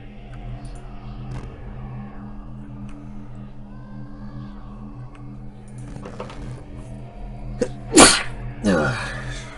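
A single loud, close sneeze bursts out near the end over a quiet hum of background music and ambience in the Pillars of Eternity video game, followed by a brief sharp exhale.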